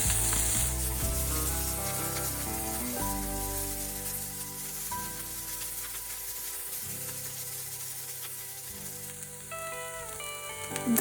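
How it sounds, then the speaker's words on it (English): Vegetable toppings for vegetarian fillings sauté in a hot pan with a steady close sizzle and frying hiss, broken by occasional stirring scrapes and clinks. "Continue saute and cook them for around 2 minutes."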